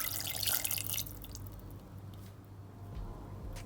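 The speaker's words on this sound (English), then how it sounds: "Add 1 liter" Water is poured into a cooking pot for chicken sweet corn soup, a soft splashing, trickling flow that is loudest at first and then settles into a quieter, steady wash.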